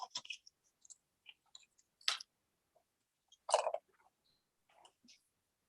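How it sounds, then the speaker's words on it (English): Chocolate chips dropped in as a layer over a white layer in a holiday treat, heard as scattered small clicks and patters in short bursts, with two louder rattling pours, close and otherwise quiet. "So we're going to add our layer of chocolate chips."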